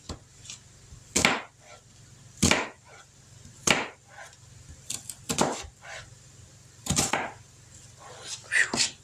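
A knife chops through a thick onion on a board in about six sharp, separate strikes at uneven intervals, close and fairly loud over a low steady hum.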